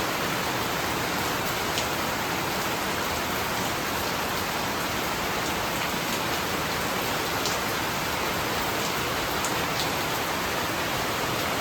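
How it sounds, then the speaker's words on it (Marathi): Steady, dense rainfall hissing continuously, with occasional sharper drops pattering on a nearby surface; wind present, no voices. "पाठीमागनं पाऊस आला आहे"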